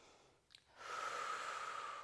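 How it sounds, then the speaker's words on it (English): A steady, breathy exhale during a Pilates stretch in pigeon pose follows a faint short catch of breath and carries on for over a second, close and soft with no talking. "Breathing in through the nose"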